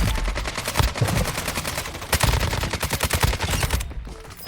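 Rapid automatic gunfire from Warzone Mobile rattles in dense, loud bursts, shots firing in quick rhythmic strings with a short pause near the end.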